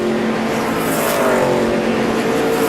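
NASCAR Nationwide Series stock cars, including a Chevrolet, race at Gateway in 2009. A loud, sustained engine roar drones throughout, with a slight shifting pitch as cars pass, and no voices.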